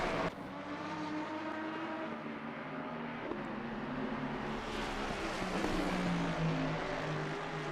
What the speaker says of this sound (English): Did hear cars very, very quiet, low on the RPMs.